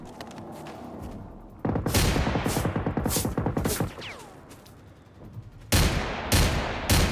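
Bursts of rapid automatic gunfire from enemies in the video game Generation Zero, loud rattling volleys broken by short pauses, with a final pair of heavy bursts near the end.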